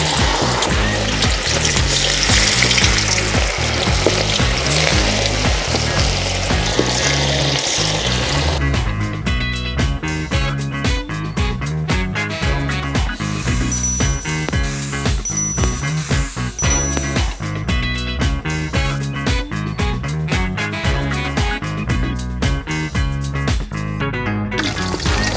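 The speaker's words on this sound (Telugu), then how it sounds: "ఇప్పుడు మనం దీన్ని ఆయిల్లో వేసుకుందాం" Chicken pakoda pieces bubble and sizzle in hot oil, a steady, loud frying hiss that runs throughout with no talk.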